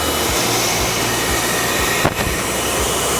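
A Vaculex tube vacuum lifter fitted with an AIMCO shingle lifting tool runs with a steady, loud broadband rushing hiss of airflow, a low pulsing throb underneath and a brief burst of air near the end.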